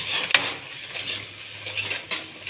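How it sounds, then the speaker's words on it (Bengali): Onion with ginger garlic paste is stirred in a pan, a soft sizzle under repeated scraping strokes of a utensil, with a sharp clink against the pan near the start. "এবার এটা দেওয়ার পরে কিছুক্ষণ এটাকে নাড়তে থাকবো।"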